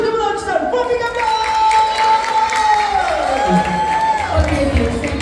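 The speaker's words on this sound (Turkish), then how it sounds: "çocuklar için kocaman alkışlar, for big applause!" A hotel mini disco crowd at a Kuşadası resort applauding the kids, clapping and cheering under loud music and an announcer's voice.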